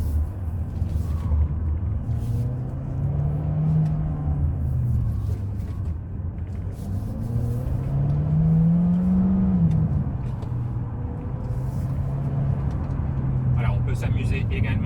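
A DS 7 Crossback E-Tense 4x4 300 hp hybrid with all-wheel drive accelerates, heard from inside as a low motor hum that rises and falls in smooth sweeps under road rumble, with someone talking over it.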